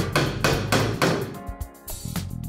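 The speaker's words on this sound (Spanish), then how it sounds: "vamos a clavar esto." A hammer drives nails into wood while building a wooden bottle opener, several sharp, ringing blows in a steady rhythm, then a few lighter taps, close and loud.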